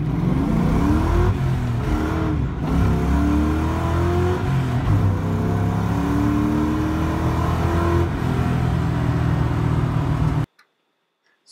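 Supercharged 2003 Mustang GT V8 running, loud and close, with a steady rumbling idle and blips of rising revs with supercharger whine, cutting off abruptly near the end.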